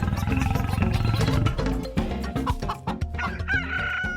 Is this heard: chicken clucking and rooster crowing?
yes